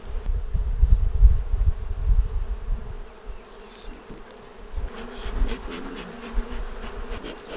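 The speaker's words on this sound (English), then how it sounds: "And this has been one of my strongest hives to date." Honey bees buzz densely around a strong beehive, a steady close swarm drone that stays loud at first, then thins slightly as the hum continues alone without talk.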